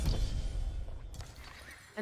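Horses whinny and neigh in a real-time strategy video game match, with clip-clopping hooves mixed in, fairly quiet and sitting under a low rumble of game sound.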